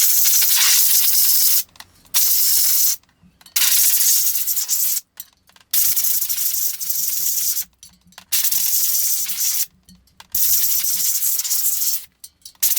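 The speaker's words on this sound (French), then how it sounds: "on va prendre de l'essuie-tout et on va essayer de venir vraiment bien nettoyer et bien sécher l'intérieur de la jante." Paper towel wiping and drying the inside of a bicycle rim during tubeless setup, a steady close rubbing swish in repeated strokes broken by short pauses, with no talking.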